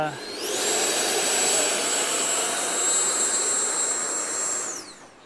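A Freewing L-15 model jet's ducted fan spools up to a loud, high-pitched whine on a beach, holds steady for several seconds, then winds down quickly.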